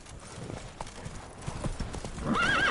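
Roach, a horse in The Witcher 3, breaks into a gallop with quick hoofbeats that build in loudness, ending in a sharp whinny over the final moments.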